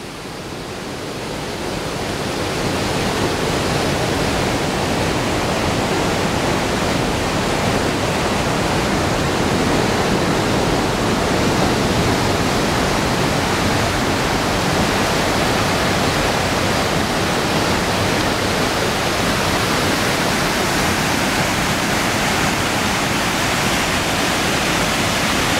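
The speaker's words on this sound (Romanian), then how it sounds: "Superb aici, la această mică cascadă." A small mountain waterfall on Valea Galbenei in the Apuseni Mountains pours with a loud, steady broadband rush of falling water, close and unbroken, with no voices.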